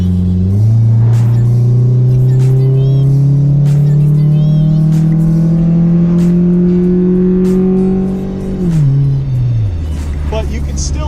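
Honda engine with a DC Sports muffler revving up, a loud raspy exhaust note climbing steadily in pitch for several seconds, then dropping sharply and rising again.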